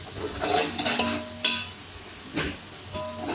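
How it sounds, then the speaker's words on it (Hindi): Spice masala fries in a pan for haleem, a steady close sizzle broken by scraping stirs, with sharper spoon-on-pan scrapes standing out now and then. "मसाले को थोड़ा सा भूनेंगे इसमें ताकि मसाले का जो कच्चापन है ना वो गायब हो जाए"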